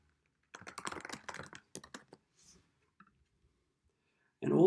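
Fingers tap out a quick burst of keystrokes on a computer keyboard while typing a note, a close run of light clicks that slows and stops, followed by near silence and then a sudden louder sound at the end.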